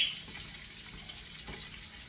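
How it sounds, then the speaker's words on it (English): Stock pours steadily into a pan holding bulgur and onions, a faint continuous splashing trickle with no voices. "Now you've got to pour the stock in."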